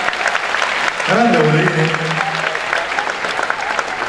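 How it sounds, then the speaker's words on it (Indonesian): A crowd of new university students claps steadily throughout, with a person speaking briefly over the applause in the middle. "Oke, tepuk tangan dong."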